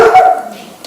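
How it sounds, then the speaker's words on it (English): A pet dog barks loudly and close up at a bird outside, giving one sharp bark that trails off into a brief whine. "my dog saw a bird"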